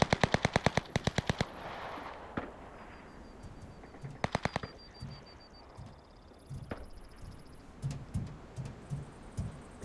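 Bursts of rapid automatic gunfire from a distant firefight in the video game Cuisine Royale, two sharp volleys of repeated shots with scattered single cracks and ambient noise between.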